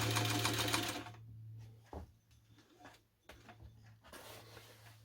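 A Singer 301 sewing machine during a stitch test: a loud burst of running at the start, then it stops, leaving a low hum and a few soft mechanical clicks and knocks before a short whirr near the end.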